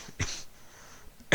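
Two sharp coughs, one early and one at the very end, close and abrupt against a quiet background.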